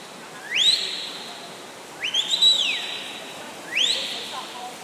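Whistles at a regional swimming championship pool mark the final 100 metres of a race: three sharp rising blasts, each held then falling away, spread across a few seconds over steady hall ambience.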